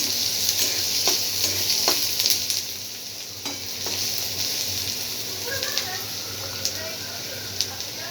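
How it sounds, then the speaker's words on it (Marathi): Chopped onion sautéing in a pan for a guar bean curry, a steady soft sizzle with occasional stirring scrapes running throughout, moderately close and without talk. "मग तर हे आपण कांदा असा छान परतून घेऊया।"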